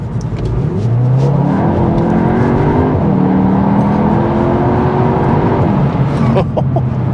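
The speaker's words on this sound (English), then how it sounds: "This has got 300 brake horsepower, 400 Newton meters of torque. What does that feel like, Tim?" A front-wheel-drive Cupra Leon hot hatch with 300 horsepower accelerates hard, its engine note climbing through a strong, continuous rev under loud, steady road noise, heard from inside.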